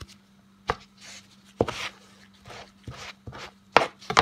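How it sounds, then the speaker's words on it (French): A knife finely chopping parsley, coriander and mint on a board, with sharp distinct taps at an uneven pace and soft rubbing swishes of the herbs in between, close and alone. "Je vais les ciseler en tout petit."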